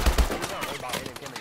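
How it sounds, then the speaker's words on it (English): Bursts of gunfire from the Call of Duty: Advanced Warfare video game, with two loud, punchy shots at the very start followed by quieter, scattered firing. "Shots behind you."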